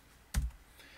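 A single short keystroke clatter on a computer keyboard while a file name is typed into a terminal, one crisp click standing alone against a quiet background.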